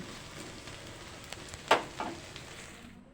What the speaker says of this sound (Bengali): এই যে বড়াগুলো এক এক করে ভেজে নিচ্ছি